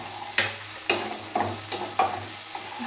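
Green chili and tomatoes fry in a pan with a steady close sizzle, broken by several distinct scrapes and clinks as a spoon stirs them.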